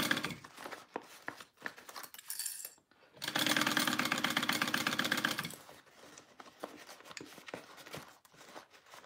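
A sewing machine stitches a 5/8 seam on a crossbody bag, with a loud steady run of rapid needle strokes lasting a couple of seconds in the middle, framed by quieter handling clicks and rustles before and after.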